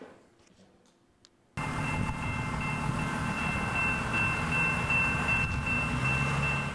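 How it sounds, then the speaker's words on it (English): An Edmonton Metro Line LRT light-rail train rolls past close by, a steady loud rumble that cuts in abruptly after a quiet moment and holds with a wheel-and-rail roar, no talk. "Starting tomorrow, the Metro Line LRT will be running at full speed."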